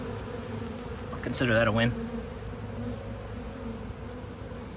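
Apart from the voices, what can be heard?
buzzing honeybees from a captured swarm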